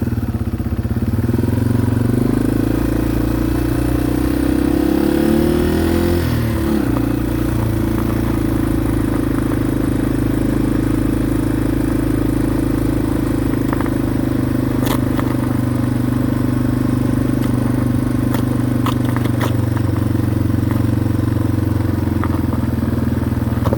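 A TW200 motorcycle with studded tires drones steadily across a frozen lake, with a rough rumbling roll and occasional light clattering and scraping from the studs on ice, close and loud.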